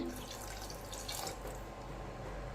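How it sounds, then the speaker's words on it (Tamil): Water runs steadily into a cooking pot while making black chickpea (sundal) kulambu, a continuous splashing, gurgling flow that stays close and even throughout with no talking. "உங்களுக்கு எவ்வளோ தேவையோ அந்த அளவுக்கு தண்ணி ஊற்றிக்கிங்க"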